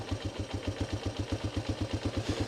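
A banned three-wheeler's small engine idles roughly with a fault in the pilot jet, its steady low chugging pulse repeating evenly up close with a slight mechanical clatter and no talk.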